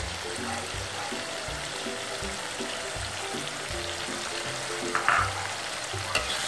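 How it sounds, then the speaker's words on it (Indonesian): Chili and soaked tamarind sizzling steadily in a pan while stirred, with a few scraping clinks of the spoon, close and continuous. "Kita aduk rata, tunggu cabenya sampai matang."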